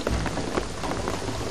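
Heavy rain in Shadow of the Tomb Raider pours down in a steady loud hiss with scattered drop hits, while a low rumble suggests a storm under the downpour.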